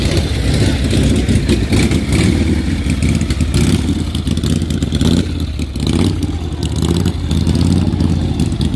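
A motorcycle engine runs loud and steady at Daytona Bike Week, idling and revving close by amid a busy outdoor crowd with faint talk in the background.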